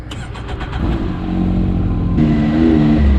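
Can-Am Maverick X3 X DS Turbo RR side-by-side cranking with a few quick starter pulses, then catching into a loud, close idle that rises slightly in pitch.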